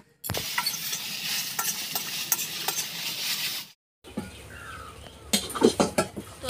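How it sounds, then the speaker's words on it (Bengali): Boiled jute greens are stirred and fried with dried red chilli and onion over a clay stove, a dense close sizzle with scraping stirs, a brief silent gap, then louder stirring. "দিয়ে ভালোভাবে নেড়ে চেড়ে শাক ভাজা করে নেব"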